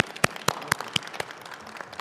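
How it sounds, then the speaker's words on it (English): Applause for student award recipients at a university Founders' Day ceremony, a few sharp evenly spaced claps close by over a faint scattered patter of clapping. "Please join me in a round of applause for our student recipients."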